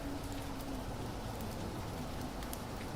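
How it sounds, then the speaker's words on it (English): Steady rain falls outside during a thunderstorm, a dense, even hiss of drops heard from indoors, continuous and moderately loud with no talk. "until the rain and thunder and all that subsides, we might as well stay indoors"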